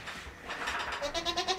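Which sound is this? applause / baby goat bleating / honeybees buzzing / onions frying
baby goat bleating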